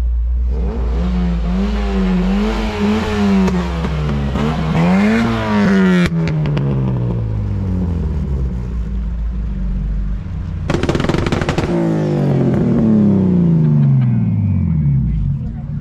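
A car engine revs hard at a night car meet, rising and falling in pitch, with sharp crackling exhaust pops, then a second loud rev burst after a brief lull.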